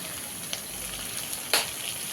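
Steady oily sizzling of kachki fish frying in a pan on a stove, with a couple of brief sharper crackles and pops standing out.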